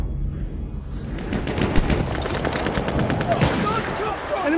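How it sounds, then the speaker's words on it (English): Loud, rapid machine-gun bursts and scattered gunshots in the Battlefield 1 video game. Dense fire pulses across the whole stretch, with a voice faintly beneath the gunfire. "machine gun over there"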